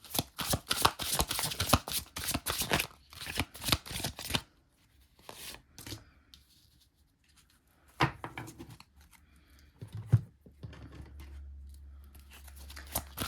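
Tarot cards shuffled at close range in a rapid run of dense riffling bursts for about four seconds, followed by quieter scattered card handling, taps and a low hum.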